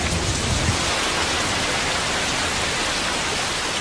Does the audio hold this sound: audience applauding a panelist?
no